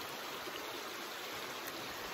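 River water flowing on a quiet outdoor riverbank, a steady broadband rush with no breaks, heard close by.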